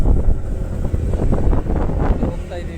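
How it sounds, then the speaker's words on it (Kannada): Strong gusty wind hits a motorbike's microphone on the road just before rain, a loud low rumbling rush that wavers throughout, with a faint voice briefly underneath. "ಗಾಳಿ ಇದೆ, ಮಳೆ ಬರೋ ಪೊಸಿಷನ್ ಇದೆ."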